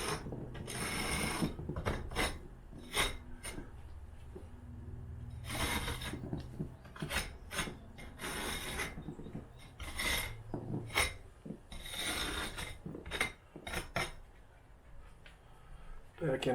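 A brush scrubs mortar into a brick wall during a room remodel, giving repeated short scratchy strokes in uneven bursts, fairly close and moderately quiet.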